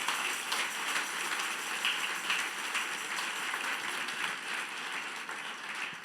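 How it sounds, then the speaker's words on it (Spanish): A steady wash of applause from a church congregation, continuous and fairly even for the whole stretch, with no voices standing out. "dale un aplauso al Señor"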